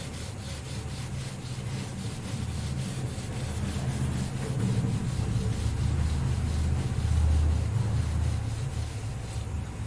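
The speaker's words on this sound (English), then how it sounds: "Now I am going to rub my board so that I can solve it further." A board being rubbed clean during a maths lesson, with rapid, rhythmic scrubbing strokes that run steadily and swell slightly louder toward the end, close up and with no talking.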